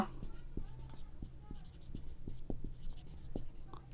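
Chalk or marker strokes on a board while working a class 7 math problem, a run of soft scratchy taps and scrapes close by with quiet talk in the room at times.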